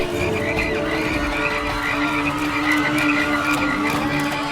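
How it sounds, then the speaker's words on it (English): Cartoon frogs croak in a dense, continuous chorus as they rain from the sky, a busy layered racket with steady loudness and no speech. "did you see that it's raining frogs?"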